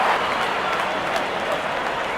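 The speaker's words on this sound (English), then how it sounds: "good innings and gets a grand applause" A stadium crowd at a Bangladesh versus Ireland T20 international cricket match applauds a batsman reaching fifty, a broad, sustained roar of clapping and cheering at steady volume with a commentator's voice faintly beneath.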